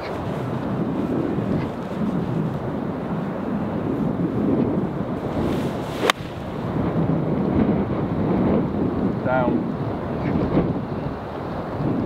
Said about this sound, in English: Wind a little bit off the left.